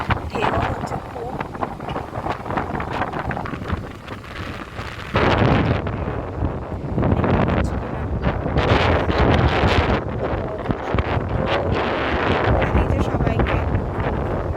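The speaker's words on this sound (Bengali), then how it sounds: "প্রচণ্ড হাওয়া দিচ্ছে, ঠান্ডা ওয়েদার, একদমই ঠান্ডা।" Strong, cold wind blows across Kashid beach on a rainy day with rough waves nearby, roaring loudly and continuously against the microphone and surging into heavier gusts from about five seconds on.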